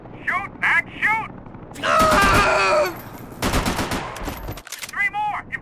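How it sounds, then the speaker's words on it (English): Bursts of gunfire in a Max Payne 3 shootout, a sustained volley and then rapid cracks, with shouting voices in between. "Shoot, Max, shoot!"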